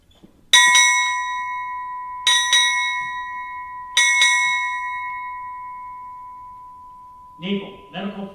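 Three separate paired strikes of a ship's bell, six rings in all, sound loud and clear at a naval change of command ceremony, each clear metallic tone ringing out and decaying before the next pair, with a voice starting at the end.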